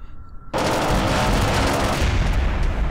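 A 30mm chain gun in Kerbal Space Program's BD Armory mod opens up after half a second of quiet and keeps firing as one loud, continuous rapid-fire roar until the end.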